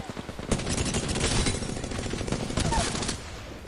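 Rapid bursts of video game gunfire crackle loudly and continuously, dense automatic shots running together with sharp cracks, then easing off near the end.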